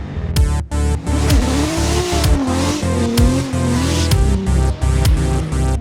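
A Formula Drift car heads out for a practice lap, its engine revving hard and wavering in pitch with sharp bangs and pops between throttle bursts, loud and close throughout.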